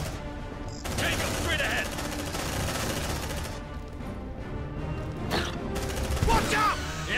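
Dense automatic gunfire and shotgun blasts in the sci-fi combat game Aliens: Dark Descent, sustained and close, mixed with sharp impacts, while a soldier shouts orders over the shooting.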